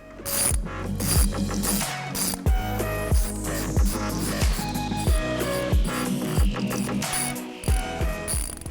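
A ratchet rapidly tightens bolts on the mirror mounts of a Jeep JL Wrangler, giving repeated close clicking runs in a steady rhythm, each burst followed by a short pause, with no talking.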